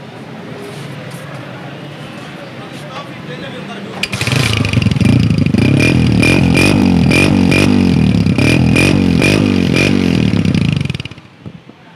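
A used Honda Deluxe 125 motorcycle engine starts about four seconds in and runs loud and close with a steady throbbing rhythm for roughly seven seconds before cutting off, after a brief stretch of quieter background noise.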